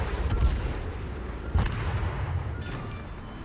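Naval gunfire in World of Warships, a Tier 8 British cruiser's guns booming in a couple of loud reports over continuous rumbling battle ambience.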